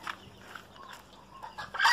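A hen among a flock of game fowl gives a few soft, brief clucks nearby, with low farmyard background noise.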